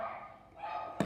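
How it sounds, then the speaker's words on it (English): Muffled background noise followed by a single short, sharp dog bark at the very end. "Excuse my dogs. They are going crazy today"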